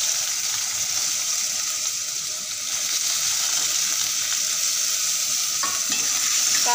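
Carrots and potatoes frying in oil with cumin give a steady, close sizzle through the whole stretch, with a few clinks and a brief stirring scrape near the end.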